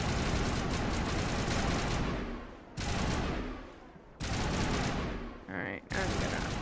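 Dense gunfire crossfire from the Mass Effect Legendary video game rattles in loud, sustained volleys that break off abruptly and resume, with a voice speaking over the shooting.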